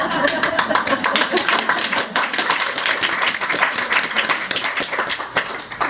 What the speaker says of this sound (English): It's okay to clap, it makes me feel good.